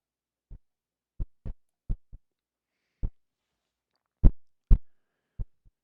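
A drum boosted with heavy sub-bass gives about ten short, deep, booming thumps in an irregular pattern, with silence between the hits. The louder strikes come near the end.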